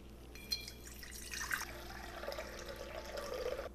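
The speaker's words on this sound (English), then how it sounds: "We're gonna need about 800 grams of water." Water is poured into a mixing bowl on a kitchen scale while making pizza dough, a soft, steady trickle with faint splashy bursts, quiet and close with no talking.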